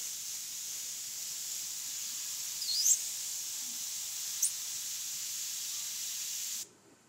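White paint overspray hisses from an airbrush as a fine, steady, faint jet that runs several seconds with a couple of small puffs before cutting off.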